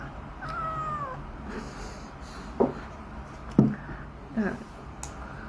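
A cat meows several times, short, close cries spaced a second or so apart over a faint background hiss.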